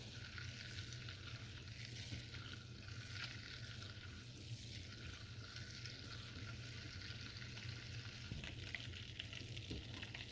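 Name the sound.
stirring caramelizing candied yam mixture in a pan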